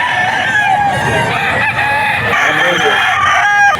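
A rooster crows loud and close at the Bocaue auction market, a long strained call over other fowl clucking and crowd murmur, with faint voices in the background.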